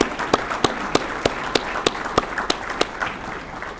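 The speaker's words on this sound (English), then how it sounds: "So can we applaud him" An audience applauds at a chamber of commerce luncheon in Pryor, a short round of sparse, evenly spaced claps ringing through a room.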